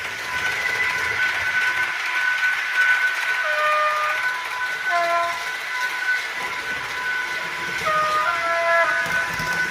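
A model train locomotive's onboard sound system plays a steady mechanical rumble and hiss with intermittent whistle-like tones rising over it, continuous and moderately loud throughout.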